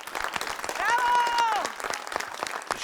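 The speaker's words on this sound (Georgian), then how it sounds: "აპლოდისმენტები." An audience in a studio for an interview with a Georgian strongwoman applauds steadily, and a voice calls out in a sustained tone over the clapping.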